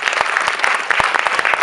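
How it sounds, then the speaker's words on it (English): Audience at a digital pitch event clapping for a presenter, crisp close handclaps forming brisk, fairly loud applause with distinct individual claps standing out over the steady patter. "please give him a round of applause"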